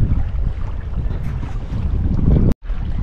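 Wind blows over a fishing boat in a cove, a loud, continuous roar buffeting the microphone, with a brief drop to near silence near the end.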